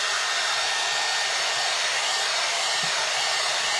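A heat dryer runs continuously on a painted wooden snowman book craft, giving a steady, loud, close-up blowing hiss with no break for its whole length.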